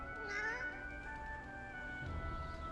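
A black cat in Divinity Original Sin 2 gives a clear, drawn-out meow with wavering pitch, close and loud over a low ambient game background.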